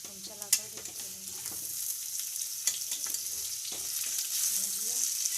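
Aloo bhujia (potatoes) fries in a pan while being stirred, a soft continuous sizzle broken by scraping clinks of the spoon, faint throughout.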